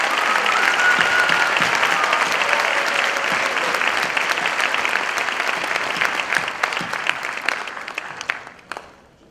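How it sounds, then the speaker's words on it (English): An audience at a county band concert gives the percussion section a sustained round of applause, thick, even clapping that thins out and fades toward the end. "Can we give the percussion section a round of applause?"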